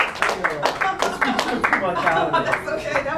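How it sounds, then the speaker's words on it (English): Hand clapping during a warm-up exercise, a string of sharp, fairly regular claps close by, mixed with a voice talking over them. "Add a little clap to it"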